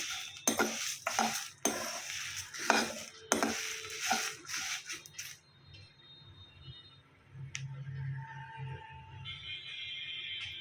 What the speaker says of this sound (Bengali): চুট চুট চুট করে ফুটছে গ্যাসটা কমিয়ে রেখেছি